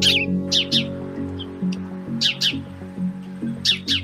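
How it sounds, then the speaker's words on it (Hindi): House sparrows chirp in short bright bursts near the listener, repeated call clusters over a low steady background hum. "कभी हर घर के आंगन में चहचहाने वाली गोरैया करीब 1 दशक से विलुप्त की कगार पर पहुंच चुकी है"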